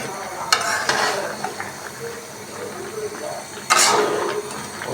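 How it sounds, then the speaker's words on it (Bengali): A spoon stirs jaggery into raw mango pickle in a pan, with soft scraping and a light sizzle running throughout and two louder knocks against the pan. "গুড়গুলো দিয়ে ভালো করে মিশিয়ে নেব"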